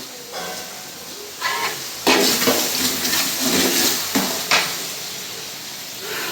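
Food frying in oil in a home kitchen, a steady hiss with a few louder crackling surges, close by and without talk.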